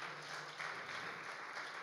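A church congregation claps briefly to welcome a first-time visitor to worship, a dense, even patter of hands, moderately distant with room echo, with no talk.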